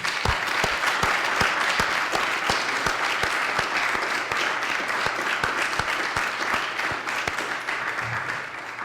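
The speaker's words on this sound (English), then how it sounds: "I think we'd like to give you a round of applause" Students at a medical school white coat ceremony applaud Dr. Bwadi, a dense, steady round of clapping from a sizeable group that holds evenly for several seconds before easing slightly at the close.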